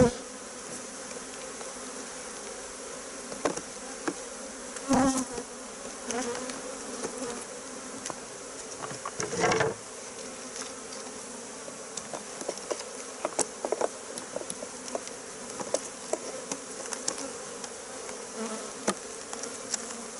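Honeybees buzz around an open beehive, a steady close swarm hum with occasional louder passes as individual bees fly near, plus faint handling knocks now and then.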